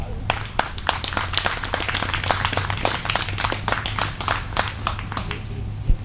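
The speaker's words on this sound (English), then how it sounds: "Please join me in giving them a loud round of applause" An audience at the Dunn County Dairy Show claps for the junior exhibitors, a lively patter of many hands at a moderate distance that continues steadily, with a louder single clap near the end and voices underneath.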